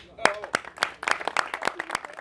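A small outdoor crowd at a hunting game fair gives sparse, scattered handclaps for a guest, Bernard Hinault. The claps are close and uneven, with a few single claps standing out.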